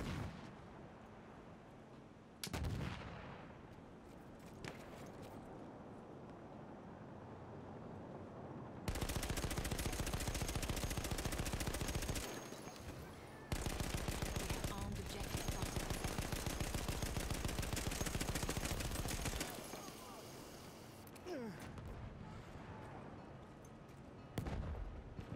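Battlefield 1 gunfire on Xbox One: long, loud bursts of rapid automatic fire with dense cracks and booming blasts, broken by brief lulls.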